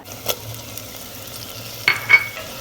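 Tomatoes drop into mixed vegetables frying in a traditional pot for Bhogichi bhaji, a soft low sizzle punctuated by a few metallic stirring scrapes and knocks, close by with no talk.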